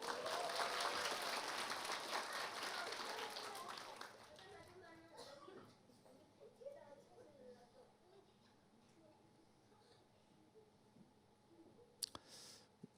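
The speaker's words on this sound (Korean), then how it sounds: "박수 일단 쳐줘." Applause from a children's and elementary Sunday school graduation thanksgiving service at a church, dense clapping from a crowd for the first four seconds, then fading into quieter room sounds with scattered small clicks.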